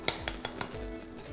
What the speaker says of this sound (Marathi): यामध्ये घालायचं आहे बेसन।